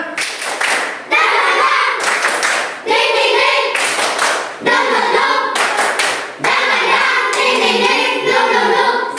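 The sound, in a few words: children doing a rhythmic spirit clap in class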